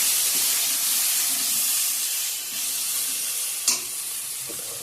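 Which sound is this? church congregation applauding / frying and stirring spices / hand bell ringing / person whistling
frying and stirring spices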